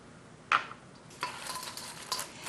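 A spoon stirs tomatillo sauce into tofu in a pan, giving a brief scrape followed by soft sizzling and light clinks against the pan, fairly quiet and with no talking.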